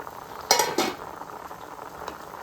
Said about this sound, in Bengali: যখনই মিষ্টিগুলো হয়ে হয়ে আসবে তখনই একটা ডাবুর সাহায্যে এইভাবে নাড়িয়ে দেবেন